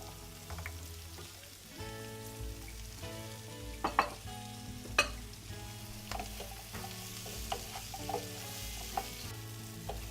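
Diced carrots and celeriac fry in a pan over ten seconds, a quiet continuous sizzle broken by scattered pops and crackles, heard close up with no talking.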